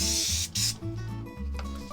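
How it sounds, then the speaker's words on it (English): Aerosol brake cleaner sprayed onto brake parts of a Suzuki Address 110 scooter, heard as short bursts of loud hiss broken by brief pauses, close by and with no talk. "just give them a spray, some brake cleaner while we're here"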